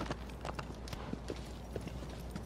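Horse hooves galloping in the Shadow of the Colossus video game, a rapid continuous clip-clop rhythm at moderate distance with no talk over it.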